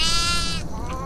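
Goat bleating in the horror video game Devour, one loud, close, wavering cry lasting about a second.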